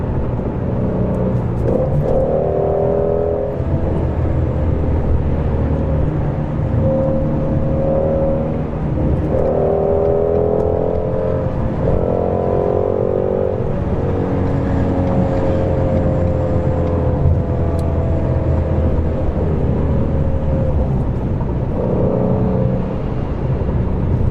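A Mustang GT350 drives through traffic with a loud, steady engine drone heard from inside. The pitch rises and falls through gear changes, over a constant low rumble of road noise.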